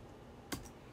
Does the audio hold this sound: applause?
no